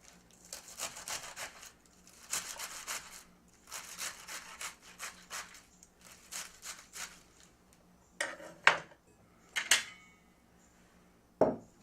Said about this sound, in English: I give it a couple of chops both ways.